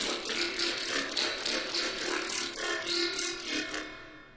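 Squishy riddim-style synth bass from Native Instruments Massive, its wobble reshaped by a changed LFO ratio, plays continuously with dense, buzzing, gritty movement and pulsing modulation, loud and alone.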